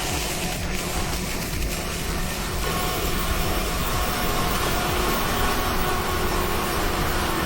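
A Fendt IDEAL 10T tracked combine harvester drives over a field, its engine roaring in a steady, dense, loud rumble that holds without a break.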